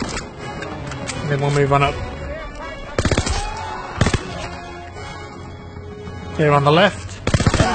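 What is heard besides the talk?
gunfire shooting through wood in Call of Duty video game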